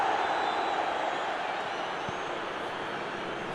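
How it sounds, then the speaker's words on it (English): Stadium crowd in the eFootball PES 2021 football game, a broad, steady roar of cheering and murmuring that stays level throughout, with no distinct claps or shouts standing out. "Crowd appreciates good football all round there."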